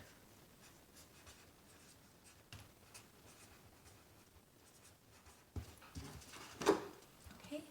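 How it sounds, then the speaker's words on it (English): Handwriting a sentence during a grammar lesson, heard as faint, steady scratching strokes in a quiet room, with a few sharper, louder marks near the end. "So I'm going to rewrite my sentence here."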